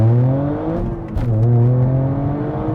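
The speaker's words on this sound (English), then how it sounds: "I'm going to give it a little launchy launch." A Toyota GR Yaris engine revs hard during a launch, rising tones climbing loud and close, a brief dip and crackle, then pulling up again in a strong steady drone.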